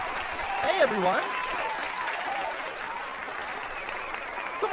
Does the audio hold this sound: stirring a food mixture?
no